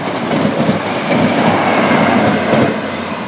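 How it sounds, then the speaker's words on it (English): A VTEC passenger train passes through Doncaster station, a loud close rumble with rhythmic clickety-clack of wheels over rail joints and faint wheel squeal, steady for about three seconds. "Passing now is a VTEC service"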